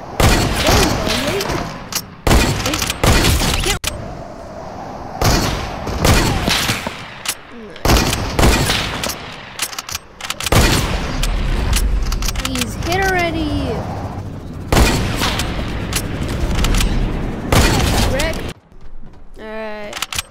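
Gunfire in a mobile shooter video game, with rapid bursts and single shots cracking loudly and repeatedly through the whole stretch, alongside a player's excited talk and shouts.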